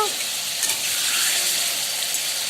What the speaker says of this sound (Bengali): সবার প্রথমে তেল গরম করে তেলে দিয়ে দেবো আলুগুলো আলুগুলো দু থেকে তিন মিনিট একটু ভালোভাবে নেড়ে চেড়ে নেব